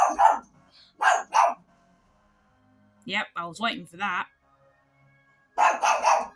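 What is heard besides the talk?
dog barking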